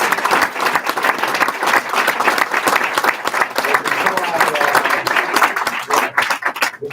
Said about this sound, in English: So just let's give them a round of applause.